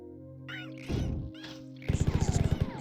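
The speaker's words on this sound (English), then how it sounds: "that's the sound of aliens getting crushed" Aliens are crushed in a trap in the Marathon video game, heard as synthetic bursts: a squelchy crunch, then a rapid series of about a dozen rhythmic thuds, with electronic squeaks and warbles above.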